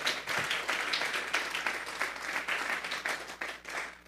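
A church congregation applauding together, steady dense clapping at moderate level that swells and fades slightly, with no talk over it.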